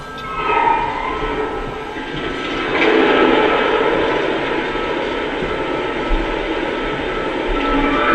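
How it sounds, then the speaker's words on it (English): A steady rushing hiss of a steam locomotive water injector sound from a Lionel Erie 2-10-4 Texas model, with a mechanical rumble beneath, swelling partway through and continuing without pause. "Next up, here's the water injector sound."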